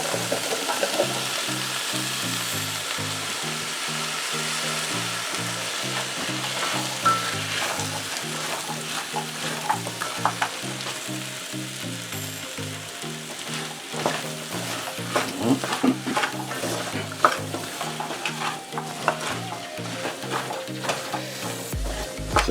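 Chopped baking potatoes and butternut squash stirred in a pot for a Jamaican-style curry, with steady sizzling and repeated rhythmic scraping strokes throughout, close and alone with no talk.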